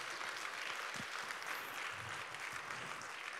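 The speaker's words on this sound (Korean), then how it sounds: "또 환대의 박수 하도록 하겠습니다." A church congregation claps to welcome first-time visitors, a soft, even patter of many hands at moderate distance with a few low thumps underneath.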